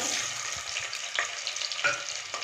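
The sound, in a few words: sautéing onion and spices in a pan for biryani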